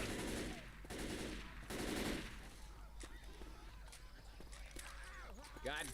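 Rapid bursts of automatic gunfire ring out in the video game Fortnite, loudest in the first couple of seconds and then sparser shots, with voices talking over the action.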